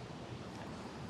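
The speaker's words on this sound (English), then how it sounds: "I'm sitting here eating nice food in a cool restaurant on the beach, hearing the waves, actually." Ocean waves wash steadily onto a beach beside a seaside restaurant in Thailand, a continuous broadband surf roar with mild wind rumble and no distinct individual breakers, heard alone without talk.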